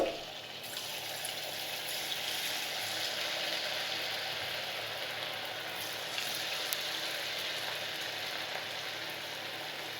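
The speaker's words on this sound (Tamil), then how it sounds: "நம்ம அந்த பேபி பொட்டேட்டோ ஃப்ரை பண்ணி எடுத்துக்கலாம்" Baby potatoes frying in hot cooking oil in a pan, a steady, even sizzle that holds at a low level throughout, with no talking.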